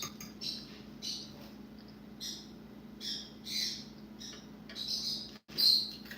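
Pet birds chirping indoors in a home kitchen, bright repeated tweets and squawks in irregular bursts over a steady low hum, fairly close and clear.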